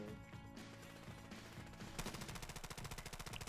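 Gunfire in Modern Warfare Remastered, a fast machine-gun-like stream of sharp shots that becomes a dense regular rattle in the second half, fairly faint under game music-like tones.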